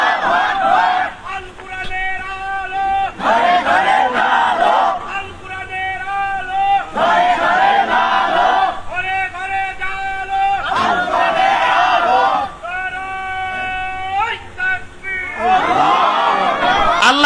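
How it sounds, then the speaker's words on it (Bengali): A large crowd at an Islamic sermon (waz) chanting the takbir slogan in repeated call-and-response waves, a lead voice followed by many voices roaring back, loud and close, several rounds in succession. "তাকবীর দেন তো দেখি, দেন ভালো করে একজন স্লোগান দেন দেখি"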